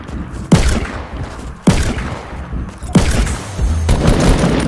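Gunfire in the video game Fortnite comes in three loud, close bursts about a second apart, each sharp crack trailing into rumbling echo, with no talking over them.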